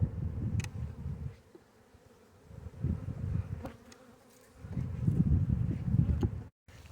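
Bees buzzing around three beehives outdoors, a low droning hum that swells and fades in waves with faint wind and rustling, no talk.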